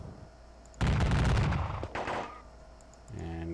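Cannon fire in an American Civil War strategy game: a loud volley of crackling, overlapping shots bursts out, then a second shorter blast follows, over a quiet background hum.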